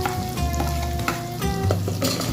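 Chopped garlic frying in oil in a pan after onions, with a steady close sizzle and occasional stirring scrapes throughout, no talking.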